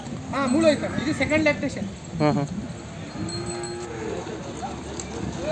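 Buffaloes low and bellow at a Sunday buffalo market in Erragadda, Hyderabad, with several drawn-out calls close by amid a busy crowd and people talking throughout.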